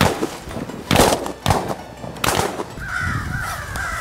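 Crows cawing during a crow hunt with an electronic crow call, a run of harsh repeated caws in the second half, mid-distance and fairly loud, after several dull thumps and knocks at the start.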